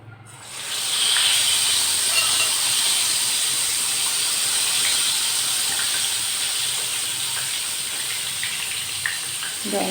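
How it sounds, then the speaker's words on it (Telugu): A battered brinjal fritter, vankaya bajji, dropped into hot oil, hissing and sizzling steadily and loudly from just after the start and holding on without a break. "ఇప్పుడు ఈ కాయని నూనెలో వేయాలి"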